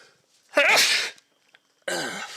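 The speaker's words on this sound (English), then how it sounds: "I think I want to sneeze again." Two loud human sneezes close to the mic, the first a sharp burst, then a second about a second later, with quiet breathing between them.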